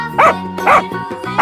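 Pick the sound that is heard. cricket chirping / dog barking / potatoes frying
dog barking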